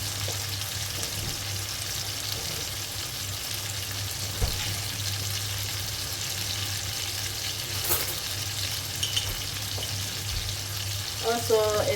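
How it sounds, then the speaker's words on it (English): Onions added to a hot frying pan while preparing tender lamb loin chops, giving a steady close sizzle and frying crackle throughout, with a few brief clatters and a small burst of splashy movement near the end. "Some onions, so just add onions on top."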